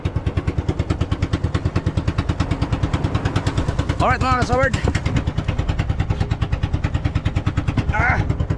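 Boat engine running at sea in light rain, a steady chugging pulse close and loud throughout, with someone talking briefly over it.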